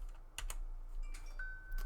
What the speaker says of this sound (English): I'm going to hit the tab key, type in the word normal,